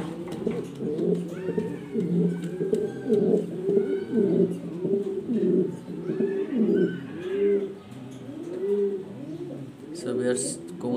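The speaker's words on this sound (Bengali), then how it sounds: "কবুতর যারা পালেন তারা অবশ্যই টপ কোয়ালিটি ভালো মান চিনেন, সেই জন্য আমি আজকে নিয়ে আসলাম top quality exhibition black colour." Black exhibition pigeons coo repeatedly in soft, rolling phrases close by, with faint background sounds and no clear talk.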